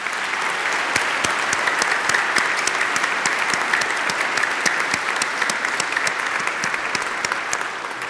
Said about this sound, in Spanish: Un aplauso para cada uno de ellos,